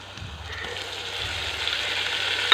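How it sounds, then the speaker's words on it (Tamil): Ground small onions sautéing in a hot pan for a spicy kuzhambu, a steady hissing sizzle that grows gradually louder, with no talk. "இதை போட்டு நல்லா ஒரு நிமிஷம் வரைக்கும் வதக்கி கொடுக்கணும்"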